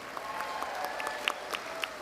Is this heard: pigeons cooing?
no